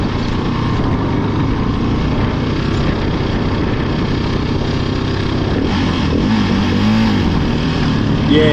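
A KTM 690 motorcycle engine firing up and revving after being towed, a steady loud engine drone running throughout with rising pitch toward the end.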